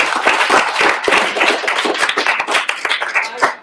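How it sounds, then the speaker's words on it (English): An audience at a HacktheMACHINE event claps after a blockchain overview talk, giving a short burst of dense, close handclaps with no voices over it. "So a round of applause for Robert."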